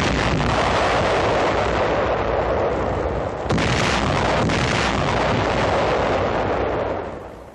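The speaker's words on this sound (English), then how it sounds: "The mines are carried to a secluded area and then destroyed." German wooden box anti-tank mines are destroyed by detonation in a secluded area, a loud blast followed by a sustained rumbling roar, with a second burst about halfway through before the sound fades.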